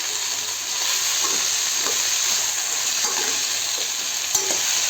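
Cauliflower sabzi fries in a pan, giving a constant bright sizzle while a spoon stirs and mixes it with soft scraping knocks at irregular moments.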